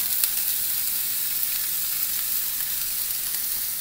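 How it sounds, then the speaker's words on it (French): Onion roasting in a pan with salt, oregano, thyme and basil nearby, giving a steady close hiss and crackle of frying that runs evenly throughout with small pops and no talking. "on commence par faire rôtir l'oignon"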